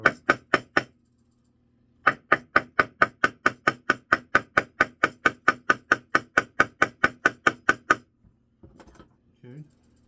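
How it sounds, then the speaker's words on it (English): A small ball peen hammer taps a white gold ring in a quick, even series of sharp strikes, pausing once before continuing; brief muffled voices follow at the end. "tap the bottom out a little bit. We're going to use a ball peen hammer for the bottom."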